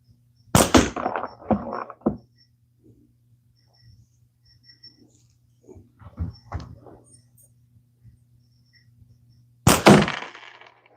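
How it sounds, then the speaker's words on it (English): A slingshot shot hits the target frame with a loud, sharp thwack, followed by scattered softer knocks and rustles, then another hard impact near the end, with faint insect chirping in the background. "I hit the frame"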